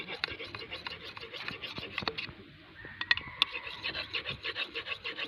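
A special soi-type rubber tapping knife is sharpened by hand, making rhythmic, close rasping and scraping strokes with a few sharp metallic ticks, under a voice.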